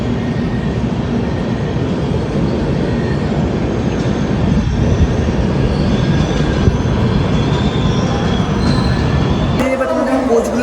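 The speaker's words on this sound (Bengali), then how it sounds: "তিন নম্বর প্ল্যাটফর্মে আরও একটি পপুলার ট্রেন ঢুকছে" The Tatanagar–Howrah Steel Express rumbles steadily alongside platform three with a broad, continuous roar and faint squeals, ending in a sudden change of ambience.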